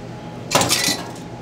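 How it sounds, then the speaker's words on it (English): A spoon or stirrer stirs a cocktail in a mixing glass, giving a brief bright run of clinking and scraping about half a second long, close up over a low steady background hum. "So we're gonna stir that in."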